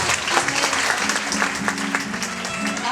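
A church congregation applauds in praise of God, with dense, continuous clapping filling the space and a few voices faintly underneath.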